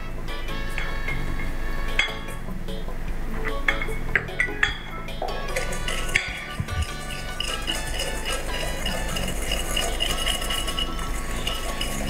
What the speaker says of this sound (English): We have to keep whisking it till it changes the color, it turns nice light and it is fluffy.